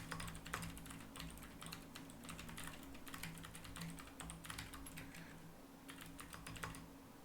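Rapid bursts of keystrokes clatter on a computer keyboard as code is typed, quiet and close, with short pauses between flurries and no talking.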